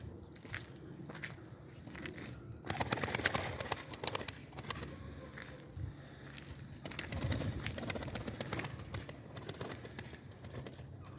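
Pigeons coo softly while wings flap and flutter in bursts, close by, with scratchy shuffling and clattering throughout.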